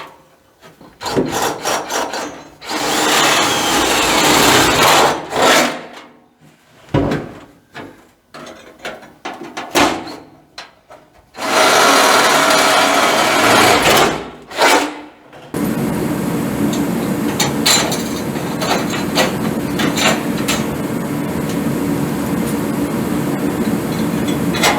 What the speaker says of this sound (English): Now I got to drill the back tube